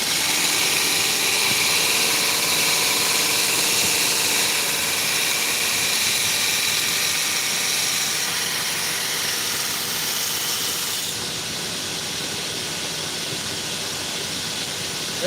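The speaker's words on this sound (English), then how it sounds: "we are grinding the primary bevels" Steady, loud grinding whine of primary bevels being ground on fixed blade knives of CPM steel heat treated to about 65 HRC, a continuous hissing roar alone with no pauses.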